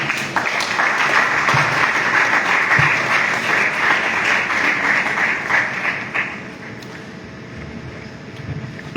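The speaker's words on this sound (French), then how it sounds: "Nous continuons à ovationner le Seigneur des Seigneurs" A church congregation gives sustained, loud applause through a night worship service, dense clapping that thins slightly toward the end.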